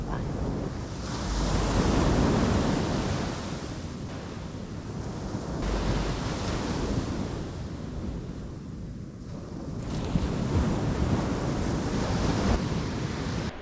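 Ocean surf rolls onto a Hawaii beach in loud, continuous washes that swell and ease every few seconds, mixed with gusty wind buffeting the microphone.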